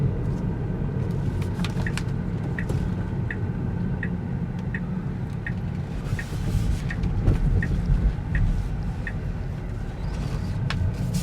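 A 2018 Tesla Model 3 Long Range accelerating, heard from inside the cabin as a quiet electric hum under steady road rumble, with a soft, evenly spaced ticking throughout.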